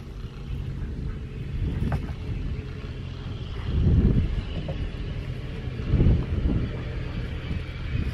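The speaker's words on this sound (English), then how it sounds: "wind's really picking up, but that's why I bought that thing for the windscreen" Strong wind buffets an outdoor microphone on a rural outing, a steady low roar with two louder gusts swelling and fading, no talking heard.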